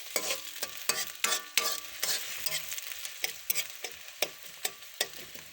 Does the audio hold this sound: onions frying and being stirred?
yes